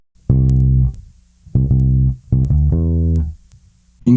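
A bass guitar plays a C three times for the outro of a song, three deep, sustained plucked notes with short pauses between them, close and alone.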